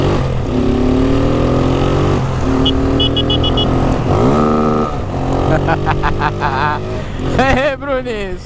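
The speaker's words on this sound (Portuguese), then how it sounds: "Nós tá com a motinha do Bololô" Small motorcycle set up for wheelies with a sport exhaust, its engine running loud and close with rising revs and throttle blips while people talk over it.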